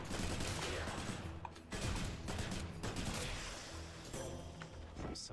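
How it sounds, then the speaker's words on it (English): Enemies in a video game firing at the player, with dense, sustained bursts of gunfire filling the scene nearly without pause, loud and close with brief lulls. "please stop shooting me"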